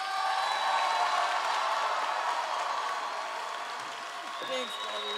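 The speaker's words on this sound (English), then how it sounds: "can we give a huge round of applause to the matriarch herself" Mourners at a memorial service applaud the family matriarch, a soft, steady wash of clapping from a seated crowd, fairly distant, with a voice briefly heard near the end.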